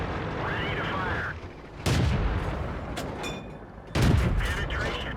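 T71 tank cannon in World of Tanks on the Steppes map fires twice, two sharp, loud booms about two seconds apart, each trailing into a rumbling decay over faint background noise.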